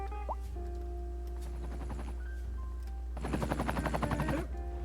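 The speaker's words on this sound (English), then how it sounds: "sounds like the hospital's helicopter was in the region" A hospital helicopter flies over a city in Cities: Skylines II. Faint background hum and small tones give way to a few seconds of rapid, rhythmic rotor chopping that swells up, then cuts off.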